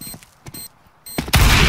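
Gunfire in a first-person shooter game: a few quick separate shots, then a loud dense burst of fire at the end of the short clip.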